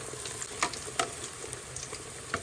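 Chicken cordon bleu frying in a pan, with melted cheese leaking out and sizzling, giving off a steady close hiss broken by a few sharp pops.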